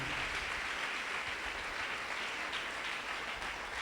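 Members of a church congregation clap loudly for the Lord during a sermon. The applause is a thick, unbroken roar of many hands that holds steady from start to finish.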